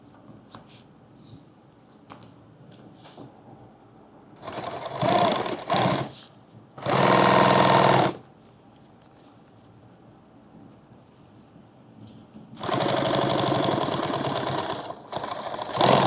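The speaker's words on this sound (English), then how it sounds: "I'm going to sew right there." Sewing machine stitching the seam of a laptop bag, running in bursts: a short run, a second stronger burst, then a longer steady stretch near the end, loud and close with quiet handling between.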